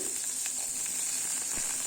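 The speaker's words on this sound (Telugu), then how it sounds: "అవి కొంచెం ఫ్రై అయ్యాక ఆనియన్స్ వేసుకోవాలండి" Tempering spices and chopped onions sizzle steadily in hot oil in a pan while a broad bean and green chilli curry is started, an even close frying hiss with faint stirring ticks.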